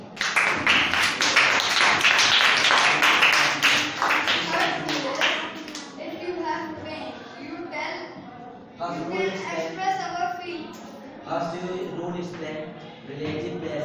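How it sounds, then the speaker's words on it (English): A classroom group claps for a student, with brisk clapping up front that fades after a few seconds into scattered taps under a speaking voice. "Clap for him."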